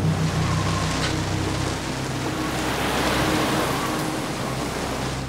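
Powerful ocean waves on a stormy coast amid gale force winds and torrential rain, a loud, broad, continuous roar of surf and wind with a deep rumbling undertone throughout.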